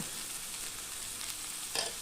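Fish frying slowly over a low flame in coconut oil, a faint, steady sizzle with a soft crackle and a brief louder spatter near the end.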